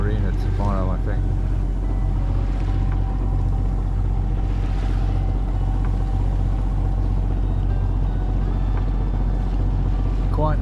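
Sailboat motoring under its engine across a calm sea during a solo passage in Indonesia, a steady low diesel drone and hum running continuously close by, with a voice talking over it briefly near the start.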